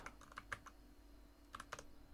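Quiet keyboard typing while coding a Love 2D game, a few short clustered keystrokes near the start and another small burst after a pause, close and faint with no talking.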